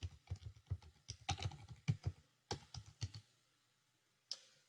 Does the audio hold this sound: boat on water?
no